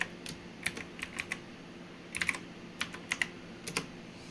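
Keys on a computer keyboard are tapped out to enter a password: quiet, irregular clusters of close keystrokes with short pauses between bursts.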